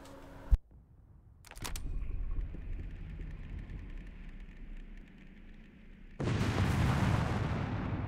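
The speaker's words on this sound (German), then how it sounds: "Da hinten wird was gesprengt. Durch die Artillerie dort." Artillery strikes detonate in the distance during a Company of Heroes 3 battle in the Italian campaign: a sharp early crack, then a burst of blasts, a long rumbling stretch, and a loud sustained explosion roar near the end.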